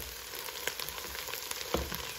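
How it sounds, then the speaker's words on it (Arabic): Onion frying in a pan as it begins to brown, a soft continuous sizzle with a few faint crackles and pops, fairly quiet and steady with no talking. "هنا البصله راه بدات كتحمر"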